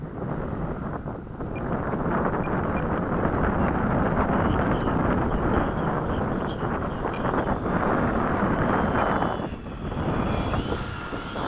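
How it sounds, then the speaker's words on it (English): Strong wind at a model airfield buffets the microphone in a loud, continuous roar that only briefly eases near the end. "Jesus, the wind."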